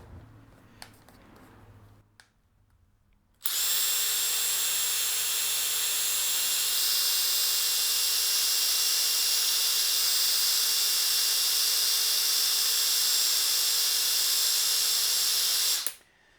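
Makita impact wrench running flat out at top speed, a loud steady high-pitched whine that holds unbroken for about twelve seconds before cutting off abruptly, after a few quiet handling noises.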